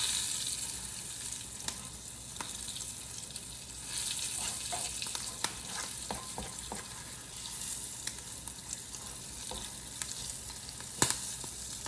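Fenugreek seeds fry in hot oil with a continuous soft sizzle, broken by scattered sharp pops and splutters at close range.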